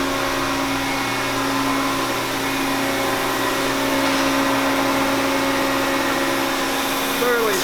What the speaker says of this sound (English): So we got all kinds of machines back here running stuff.